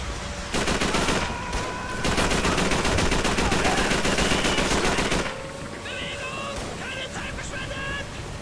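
MG42 machine guns fire in Call of Duty 3 during a boat assault, a loud rapid sustained burst of gunfire over water that stops abruptly, followed by distant scattered shots and battle noise.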